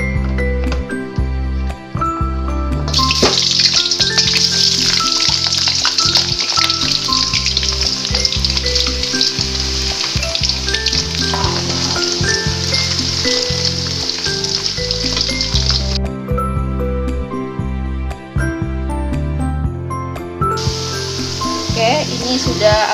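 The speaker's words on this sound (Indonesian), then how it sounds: "Kita masukkan minyak ke dalam wajan secukupnya saja ya teman-teman." Steady, loud sizzling of potato patties frying in hot oil in a pan, a continuous crackling hiss with some background music-like tones throughout.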